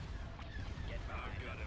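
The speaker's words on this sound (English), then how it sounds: "I love the explosions." Super Star Destroyer firepower in the Thrawn's Revenge Star Wars game mod sets off a steady rumble of distant explosions, soft booms and crackling blasts blending into a low, quiet battle roar.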